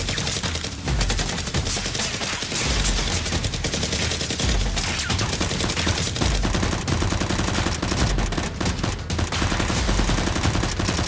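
Nerf guns firing throughout a staged Nerf war with SEAL X Warriors blasters, a dense, continuous clatter of shots and movement with no clear pauses.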